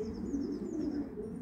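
Racing pigeons in a breeder's loft coo in soft, continuous low murmurs, with a few faint higher chirps over a steady background hum.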